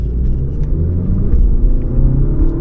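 An Audi A1 40 TFSI drives in second gear, with a steady, loud low engine rumble and road drone heard from inside the cabin and no talking.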